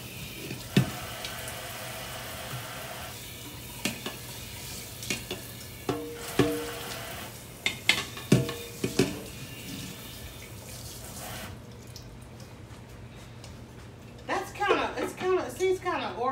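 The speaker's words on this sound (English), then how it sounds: "Let me get the top rinsed off." A kitchen tap runs as a pot lid is rinsed in the sink, with clanks and knocks of cookware throughout and a burst of splashing toward the end.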